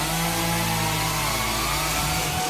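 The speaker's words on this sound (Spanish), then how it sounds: "Motosierras." A Forest Garden chainsaw runs at a steady high-revving whine, loud and close, continuous for the whole stretch with no voices.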